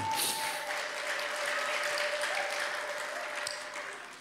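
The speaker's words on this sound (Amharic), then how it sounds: "እስቲ ታላቅ ጭብጨባና ለዚህ ለጌታ" A church congregation gives sustained, loud applause in praise of the Lord during a service, a dense crowd of clapping that holds steady and then tapers slightly at the end.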